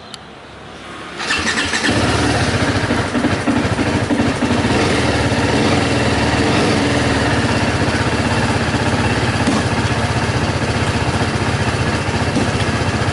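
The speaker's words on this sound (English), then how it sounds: "So I'm going to start the engine right now" A TVS Apache RR 310 motorcycle engine cranks and catches, then settles into a loud, steady running rumble that continues to the end.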